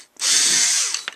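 A Ryobi Tek4 lithium-ion cordless screwdriver whirs up to speed for about a second, a close, steady high motor whine, then stops with a couple of small clicks.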